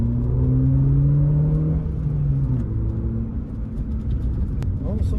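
A Ford Fiesta Mk5 Zetec S engine drones inside the moving car, with a low rumble and rising then falling engine tones, loud and close while voices chat over it.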